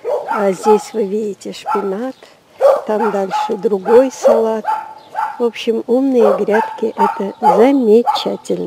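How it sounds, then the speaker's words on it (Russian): Dogs bark and yip repeatedly near a garden of raised smart beds with spinach and tomatoes, the barks overlapping a woman's continuous speech in Russian. "Простите за лай собак."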